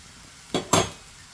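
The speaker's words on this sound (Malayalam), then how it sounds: "ഇത് വറുത്ത റവയാണ് എന്നാലും ഒന്നുകൂടെ നമുക്ക് വറുത്ത് കൊടുക്കണം" Roasted semolina in a pan with wilted vegetables gets two quick scraping stirs, short gritty scuffs close by with a little clink of the spoon, otherwise quiet.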